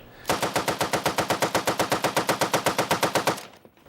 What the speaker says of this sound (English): This is the M60 E3 light machine gun. It's a belt-fed, gas-operated, air-cooled, fully automatic weapon that fires at 550 rounds per minute.